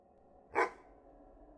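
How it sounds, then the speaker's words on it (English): A single short dog bark sounds once, moderately loud against a quiet background hum, then fades into stillness. "I startled awake to a bark, my mind still blurry."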